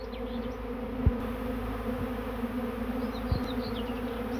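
A swarm of honeybees arriving at a hive in May hums steadily at close range, a dense continuous drone with a few louder thumps and passes near the microphone, and no voices.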